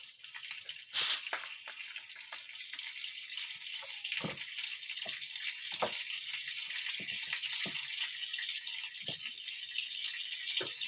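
Butter sizzling in hot cooking oil in a pan while chili garlic prawns are prepared, a steady bright crackle with scattered pops and a sharp burst as the butter goes in.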